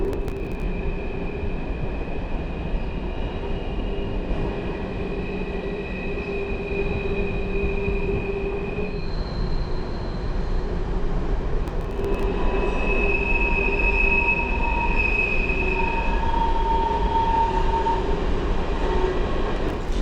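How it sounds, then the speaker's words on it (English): Train rolls across a high bridge in Canada, a loud steady rumble of wheels on rail with sustained metallic squeals and whines rising and fading, no voices over it. "that's so eerie to hear that train and be on this high, scary bridge"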